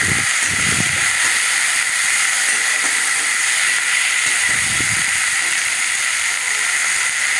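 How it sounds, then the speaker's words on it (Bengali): Chopped green chillies sizzle in a hot pan, giving a loud, constant hiss that fills the scene from start to finish, with a few low clunks of the pan underneath and no talk. "লঙ্কা কুচি দিয়ে দিলাম"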